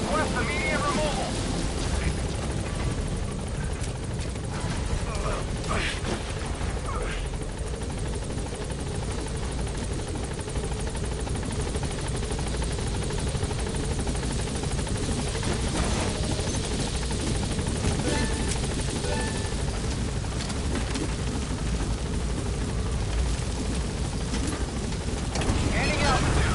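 Pequod, the helicopter in Metal Gear Solid 5, roars close and loud with a steady rotor thrum and wind-like rush as it tries to land, with a voice speaking over the noise.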